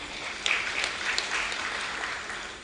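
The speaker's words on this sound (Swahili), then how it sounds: "wenyewe tupige makofi" Applause from a seated audience at a memorial conference in Tanzania, a steady crowd of clapping hands heard from a moderate distance and lasting a couple of seconds.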